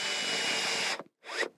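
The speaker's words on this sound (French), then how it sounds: "Ensuite, avec ma visseuse et ma douille qui va bien, j'ai pris la bonne taille. Je prévisse" Cordless screwdriver with a socket pre-driving a screw into a catamaran fitting, a close, loud whir of about a second, a short stop, then a second brief burst that winds down.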